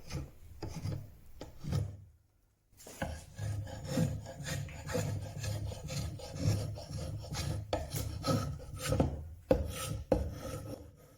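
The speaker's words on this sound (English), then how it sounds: "You're using the bevel to help direct and control the thickness of the shaving." A chisel pares letters into a handmade oak bread board, giving repeated close scraping, rasping cuts in bursts with a brief pause near the start and sharp knocks later.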